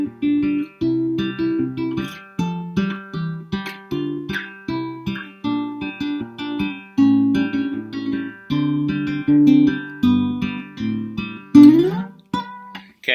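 Acoustic guitar fingerpicking a lively passage of a song, plucked notes and chord changes, close and clear, ending on a strummed chord with no talking.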